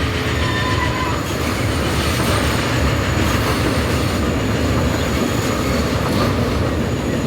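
A train rolls past steadily in the railway sim Transport Fever, a dense continuous rumble of wheels and wagons with faint squealing, loud and unbroken throughout with no talk.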